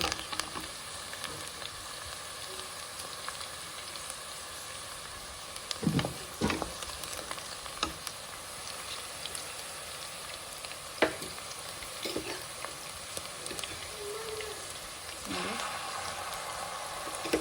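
Ingredients for tomato bath frying in a pan, giving a steady close sizzle throughout with a few brief spoon or stirring knocks and scrapes, no talking.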